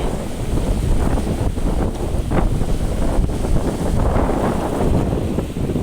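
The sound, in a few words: strong wind on the river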